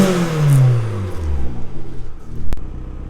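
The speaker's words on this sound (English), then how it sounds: "We're going to give it a little rev just so you can hear the exhaust" An Opel Z20LET car engine with a failed head gasket revs up loudly through the exhaust, then drops back and rumbles unevenly, ending with a sharp click.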